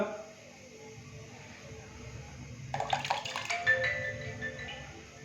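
Water is poured from glasses into a cooking pot for chicken pulao, giving a short, close splashing pour over a low background hum.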